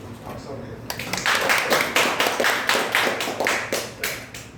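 A church congregation claps to welcome back a returning elderly deaconess, starting after a brief pause into loud, fairly rhythmic group clapping with voices mixed in.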